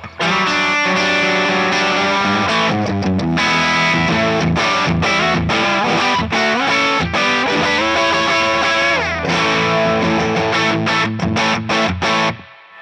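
Electric guitar driven through a Dominion Electric Faceless Fuzz pedal, playing loud, saturated classic-rock style chords and riffs with thick distortion, continuous and close with no talking.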